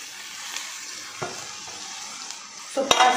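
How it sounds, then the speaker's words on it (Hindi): Pasta tipped into a pan with mayonnaise and spices and stirred, giving a steady soft sizzle with scattered scrapes and a cluster of louder clinks and clatters near the end. "तो अब मैं वो पास्ता डालूंगी।"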